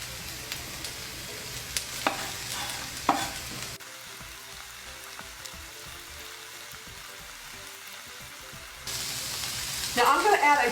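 Vegetables for sloppy joes cook down in a pan, a soft steady sizzle with occasional clinks and scrapes of stirring, growing louder and busier in the last couple of seconds.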